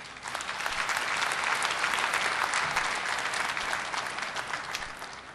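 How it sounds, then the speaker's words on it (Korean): An audience at a university graduation ceremony bursts into sustained, loud applause that welcomes the guests. The clapping builds quickly, holds steady and then tapers off slightly at the end. "참석해 주신 내외 기빈 여러분에 대해서 다시 한번 큰 박수로 환영해 주시기 바랍니다."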